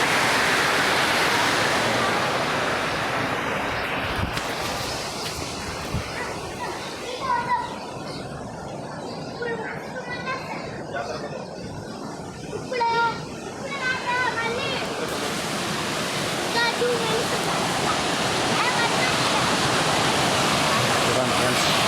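Water flows at a temple waterfall at Singhada Lakshmi Narasimha Swamy with a constant rushing roar, heard beneath children playing and people talking nearby.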